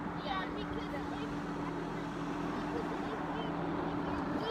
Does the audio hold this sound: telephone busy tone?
no